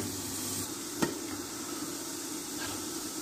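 Chicken stirred with olive pickle in a frying pan during a chicken roast: a steady low sizzling hiss throughout, with a single sharp utensil knock about a third of the way in.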